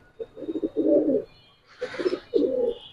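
Giribaz pigeons, a red-throated hen among them, coo in two low, throaty bursts that are fairly close and clear, with a short quiet gap between them and no talking.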